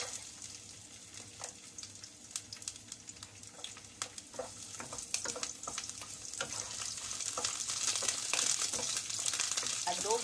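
Garlic frying in oil for a Filipino adobong pula, a soft steady sizzle with scattered crackles and pops, close but quiet, growing a little louder toward the end.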